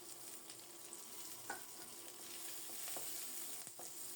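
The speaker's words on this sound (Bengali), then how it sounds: "ফোড়নটা রেডি হলে কয়েক টুকরো কাঁচামরিচ দিচ্ছি" Green chili pieces dropped into hot tempering oil for a dal, a steady close sizzle with a few sharper crackles and stirring clicks and no talk.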